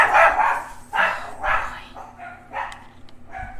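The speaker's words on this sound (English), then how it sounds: "The big dog hears something outside. She goes to run. And then the two little ones start barking after her." Several dogs, one big and two little ones, bark in short sharp bursts at close range, about six barks spread across a few seconds with brief pauses, some yips among them.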